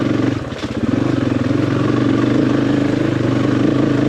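Motorcycle engine climbing a steep uphill dirt track past planted fields on a ride toward the El Salvador border, a steady close mid-pitched drone with a rapid throbbing pulse, running loud and alone throughout.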